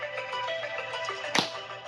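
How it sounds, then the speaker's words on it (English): A phone alarm on a Texas animal ranch plays a steady, repeating electronic tone pattern close by. One sharp snap-like noise cuts through near the end. "That's my alarm."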